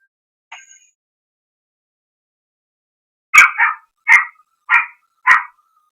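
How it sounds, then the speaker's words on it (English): A dog outdoors gives one faint yip, then after a pause lets out four sharp barks in a fairly even rhythm. The barks are loud and close, with silence between them and no speech. "Your doggy outside."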